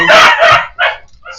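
Dogs barking outside on a neighbourhood street during a dry day after rain: two quick loud close barks followed by a shorter third bark and a faint yip, with no talking.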